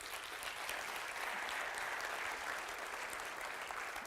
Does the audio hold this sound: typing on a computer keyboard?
no